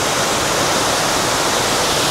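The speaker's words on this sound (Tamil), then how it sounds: "ரொம்ப அருமையான ஒரு அருவிங்க." A forest waterfall on a hill route toward Kodaikanal via Pandrimalai and Thandikudi, its water slightly muddy, pours in a loud, steady, unbroken roar of rushing water that fills the scene up close, with no voices.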